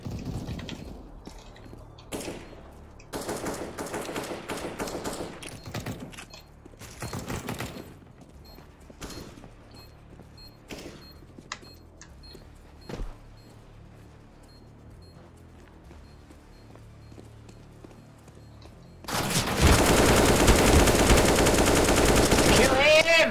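Bursts of rapid gunfire in a CS:GO competitive match, sharp cracks and short automatic volleys spaced through the round, then a loud sustained burst near the end, with faint voices in places.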